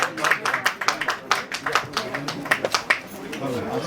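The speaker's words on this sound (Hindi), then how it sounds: "प्लीज स्टेज और जोरदार तालियों के साथ स्वागत।" At a film trailer launch party, an audience claps to welcome guests onto the stage, with distinct, uneven claps under someone speaking over a microphone.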